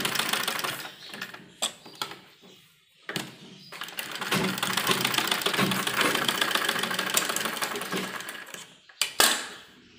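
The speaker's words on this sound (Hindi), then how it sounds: "सिलाई हम साइड में करेंगे।" Sewing machine stitching the side seam of a baby frock, a steady rapid mechanical chatter running through most of the clip, broken by short pauses and brief restarts near the start and end.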